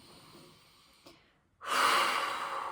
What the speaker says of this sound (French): Tu peux relâcher par le souffle en prenant une profonde inspiration